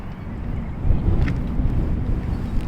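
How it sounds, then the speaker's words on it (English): Strong wind at a commercial fishing lake at the end of a causeway, a dense low roaring buffet across the microphone that builds slightly after the first second and stays steady, with no voices. "It is a very windy day today."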